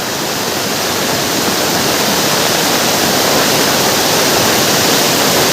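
Swollen village river rushing after heavy rain, a loud, dense, continuous roar of churning water, close and steady throughout with no voices.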